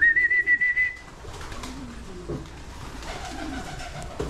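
Pigeons coo softly nearby, with a bright whistle-like tone at the start, then low, irregular calls against faint background noise.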